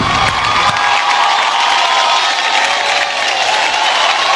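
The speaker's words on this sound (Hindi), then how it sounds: "इस टीम के लिए जोरदार तालियां होनी चाहिए।" Audience at an award show applauding and cheering loudly and continuously, a dense wash of clapping with whoops and shouts throughout.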